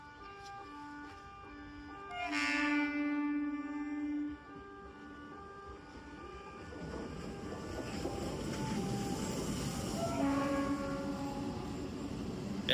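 An MMTS suburban train arriving at Malakpet railway station in Hyderabad, with a loud two-tone horn sounding early and again later, followed by a building rumble of the approaching train.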